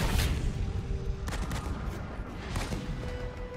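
Gunfire in the video game Halo Wars 2 as units shoot at mines: a dense, continuous rattle of shots with a few sharper bursts standing out over steady low rumble.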